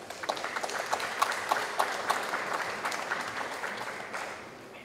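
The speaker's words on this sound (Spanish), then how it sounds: "con fuertes aplausos." Steady applause from a crowd at an international circular economy forum, many hands clapping continuously at moderate loudness, tapering slightly toward the end.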